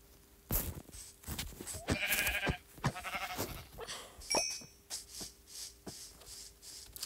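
Sheep bleat repeatedly in a survival video game, several short wavering calls spaced across the stretch with soft in-game shuffling between them and no talking.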